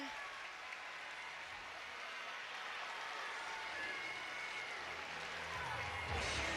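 A gymnastics meet crowd claps steadily along in a dense, continuous wash of applause that fills the arena, faint and distant, holding an even level throughout.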